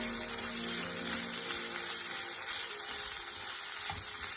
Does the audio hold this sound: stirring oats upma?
yes